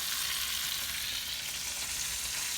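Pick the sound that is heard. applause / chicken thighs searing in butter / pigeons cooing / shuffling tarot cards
chicken thighs searing in butter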